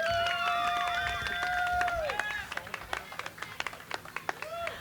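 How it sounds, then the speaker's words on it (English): Crowd clapping at a playground ceremony in a park, scattered claps building into sharp, distinct hand claps after a voice or sustained tones fade out, with some cheering and speech mixed in near the start. "Let's give her a big round of applause as she comes up."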